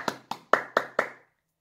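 Five crisp, evenly spaced hand claps from children at the end of a counting song, close and distinct, with the last clap ringing out briefly into silence.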